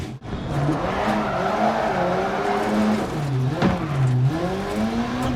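A car with an aftermarket AliExpress handbrake locks its wheels and slides, a continuous tire squeal over a wavering, revving engine lasting several seconds, close and loud with no talk.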